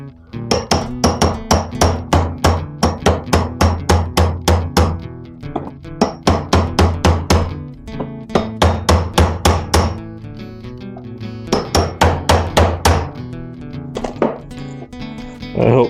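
A socket with a tapered edge is hammered into hose ends on a 1957 Chevy, sharp metallic blows landing in quick rhythmic bursts with short pauses between, close and loud.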